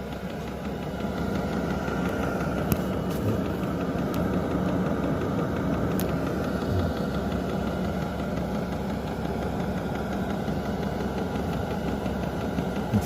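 A diesel heater runs aboard a boat with a steady, close mechanical hum and faint rapid ticking, a few sharp clicks early on, and no talk.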